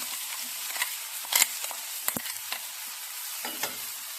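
A ground paste of coconut, onion, green chili, cumin and curry leaves sautés in a pan, giving a soft steady sizzle broken by several sharp scrapes and clacks of stirring, with no voices.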